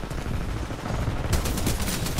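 Rapid gunfire in Titanfall 2 during a hardpoint match, a dense burst growing louder in the second half and landing a headshot kill, with continuous crackling shots over a busy battle background.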